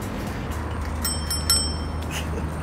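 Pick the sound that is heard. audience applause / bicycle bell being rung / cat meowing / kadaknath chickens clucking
bicycle bell being rung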